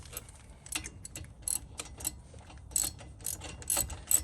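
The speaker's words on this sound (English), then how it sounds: "let's just tighten up the caliper itself from the back" A ratchet tightens the brake caliper bolts on a 2015 Jeep Grand Cherokee during a front brake job, giving quiet bursts of rapid clicking that start and stop in short irregular runs, close by and with no talk.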